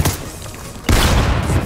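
Fortnite gunfire during a one-on-one battle: a loud booming shot at the start, then a second heavy blast that rolls into a sustained burst, with no talking.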